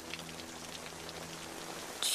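Rain falls steadily in a Korean drama scene, an even hiss of drops on a surface with a faint low hum beneath, growing a touch brighter and louder at the very end.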